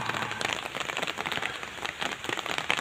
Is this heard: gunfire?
no